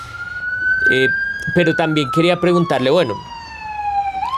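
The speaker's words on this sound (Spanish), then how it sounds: "esperemos que pase la ambulancia." An ambulance siren passes close by as a loud, steady tone that slowly glides downward in pitch while someone talks over it.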